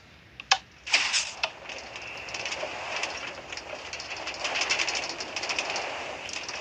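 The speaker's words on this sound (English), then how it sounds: "The train is about to depart." A metro train pulls away from a station and runs on, a rising hum and rush of motion after a few sharp clicks and door knocks at the start, moderately loud and steady.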